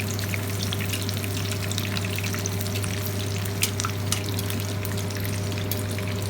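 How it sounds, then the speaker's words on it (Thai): Whole fish deep-frying in hot oil, flipped to crisp the second side in a Chinese restaurant-style kitchen: a steady, dense bubbling sizzle with a low hum beneath and occasional louder pops, heard alone without talk. "ตอนนี้เรากลับตัวแล้วนะคะ ทอดอีกด้านหนึ่งค่ะ"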